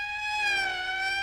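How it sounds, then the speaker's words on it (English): A police vehicle siren wails in a steady, sustained tone that rises slightly in pitch and then falls. It is fairly loud and heard alone, in the 1959 film Plan 9 from Outer Space. "That's the 5th siren in the last hour."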